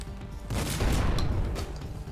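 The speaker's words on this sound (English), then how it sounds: "I really should not be using these many shotgun shells on like single enemies" Shotgun blasts in the game Project Warlock, a rapid cluster of loud booming shots rolling together over about two seconds, heavy and close with no talking.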